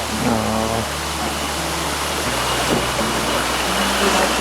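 Thi Lo Su waterfall in Thailand roars as a steady, loud wash of falling water, with a low hum underneath and voices faintly heard over it.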